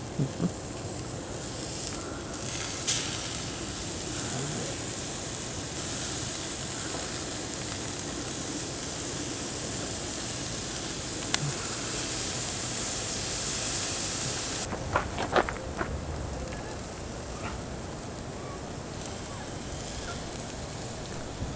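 Smothered potatoes cooking in a pan give off a continuous bright sizzling hiss, loud and steady for most of the stretch, then quieter with a few clinks and faint voices toward the end.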